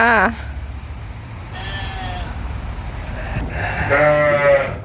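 Sheep in a neighbour's sheep truck on a Norwegian farm bleat twice, once at the very start and once near the end, loud and close, over low background rumble with some voices.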